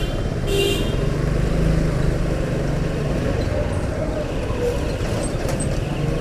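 Steady road traffic rumbles at the Tongi bazaar exit beneath the Cherag Ali to House Building flyover, with a short horn toot near the start and brief higher beeps later, constant and fairly loud throughout.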